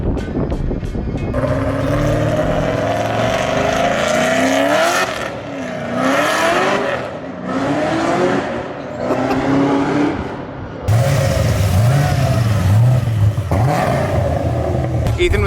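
A Nissan 350Z fitted with an LS3 V8 revs hard close by, loud rising and falling bursts of engine roar with brief dips between pulls, no talking.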